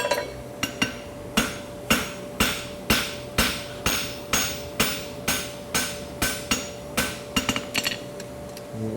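Steady metallic hammer blows on a steel bar horseshoe being scarfed at an angle, about fifteen evenly spaced ringing strikes, close and clear with no talking.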